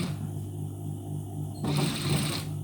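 A sewing machine stitches a shirt collar from the inside, its motor humming at close range and then breaking into a louder, faster stitching run partway through before stopping.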